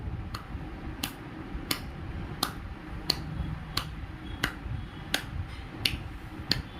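A small child claps, giving about ten sharp, evenly spaced claps roughly every two-thirds of a second, fairly quiet over a low room murmur.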